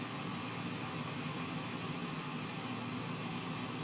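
Aircraft engines spool up before takeoff, a steady, broad, loud roar heard from inside the aircraft, holding constant without a break and with no talking.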